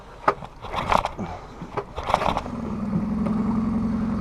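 A few scraping pulls and clatters, then a small Suzuki 20 horsepower lean-burn outboard engine catches and settles into a steady, close idling drone.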